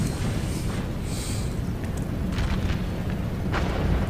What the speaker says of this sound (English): the artillery is taking them out big time right now